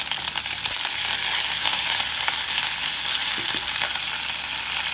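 Red chilies and curry leaves sizzle loudly in hot oil for tiffin sambar, a continuous bright crackling hiss with occasional sharper pops.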